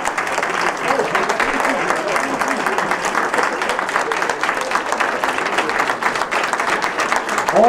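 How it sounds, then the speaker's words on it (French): A standing audience at a Lions club 60th-anniversary celebration applauds its former club presidents with dense, steady clapping that holds at an even level throughout, with voices mixed in. "Applaudissez."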